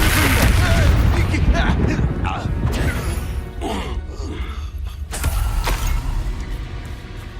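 Expelliarmus disarming spell cast during a duel in the Hogwarts Legacy video game, loud magical blasts and crashing impacts tumbling over one another amid steady battle effects and music.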